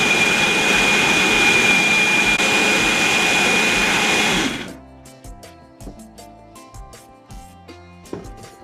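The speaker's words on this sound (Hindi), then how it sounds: "थोड़ा जैसे ही ठंडा होगा तो इसको फिर पीसूँगी मैं" A mixer grinder runs loud and steady for about four and a half seconds, grinding fried tomato and onion into a paste, then cuts off abruptly, leaving faint clinks and light kitchen sounds.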